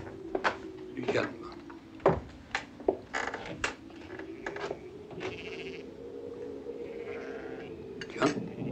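Sheep bleat repeatedly and at varying distances outdoors in the countryside, several overlapping calls over a steady low drone, with a voice speaking briefly among them.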